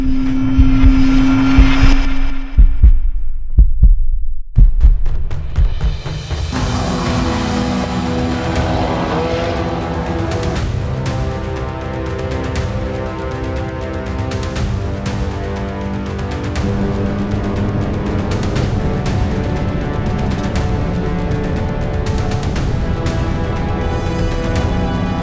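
Time attack race car driving on track during a 2025 Round 6 event, its engine building from a quiet start into a loud, sustained roar with shifting pitch that carries steadily to the end.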